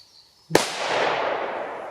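A firecracker blast outdoors, a single sharp loud bang followed by a long hissing, crackling decay that fades slowly over more than a second.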